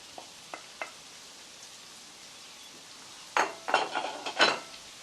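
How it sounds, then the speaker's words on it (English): Crushed garlic and chopped tomatoes drop into a pan for Spanish pisto: a few faint early clicks, then a loud close burst of tumbling, sizzling clatter near the end. "add the garlic, 2 cloves of crushed garlic, and the chopped tomatoes"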